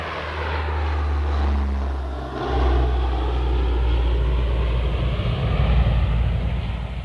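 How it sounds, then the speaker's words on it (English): A propeller airplane passes high overhead at an air show carrying paratroopers, a loud sustained engine drone that swells and holds steady throughout. "keep your eyes on this airplane"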